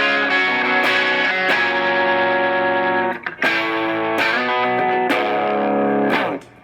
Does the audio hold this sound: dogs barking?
no